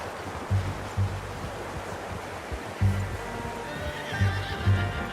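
Several horse whinnies and snorts in Red Dead Redemption 2, spaced over a few seconds against steady outdoor ambience, with faint clip-clopping hooves.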